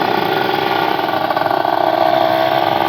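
A slow motorcycle's engine hums steadily while riding, a continuous mid-pitched drone with slight pulsing, close and unbroken, no talk over it.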